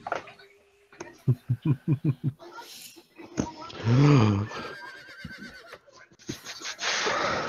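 A tabletop role-playing game session where someone produces a string of horse neighs and a whinny, a rapid pulsing run followed by a longer wavering call, close and loud, likely a voice imitating a horse.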